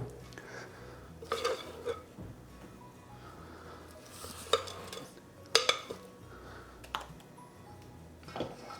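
Chocolate cake batter is scraped into a mixing bowl for a marbled chocolate cake, with soft scrapes and a few sharp clinks of utensil against the bowl at scattered intervals, close and fairly quiet.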